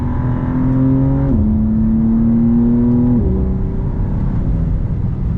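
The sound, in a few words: BMW M2 CS engine revving with quick paddle shifts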